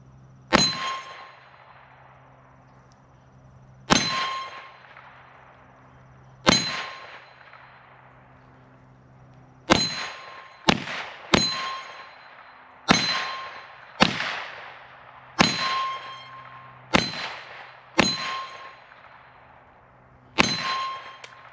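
Kel-Tec Sub 2000 Gen 3 9mm carbine fired outdoors: a series of sharp, loud reports, a few single shots spaced apart and then quicker strings, each with a ringing tail, with no talking.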